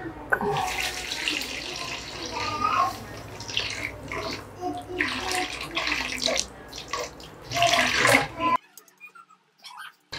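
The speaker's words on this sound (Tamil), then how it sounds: "ஸோ தேவையான அளவு தண்ணி ஊற்றிக்கிறேன்." Water pours and splashes steadily into a bowl for soaking poha for aval adai, for several seconds, then cuts off, with faint clinking and a voice nearby.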